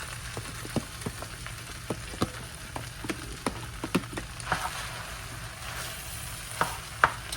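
Thirty medium ears of corn cooking in a big pot are stirred, giving a soft background bubbling hiss punctuated by irregular scrapes and knocks of the spoon, close and moderately quiet without talk.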